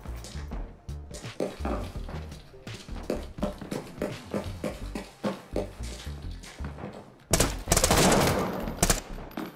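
Rapid bursts of gunfire crackle and rattle continuously, with a louder, denser volley near the end; no voices. Gunfire in the video game Arena Breakout Infinite.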